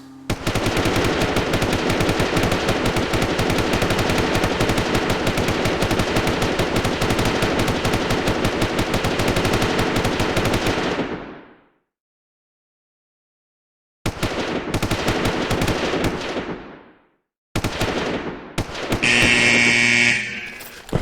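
Rapid automatic weapon fire on a support range in the Red Crucible shooting game, a long loud continuous burst, a pause, then another shorter burst followed by an electronic buzzer-like tone.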